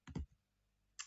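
Mouse clicks on a computer button: a quick double click, a pause, then one more sharp, close click in a quiet room.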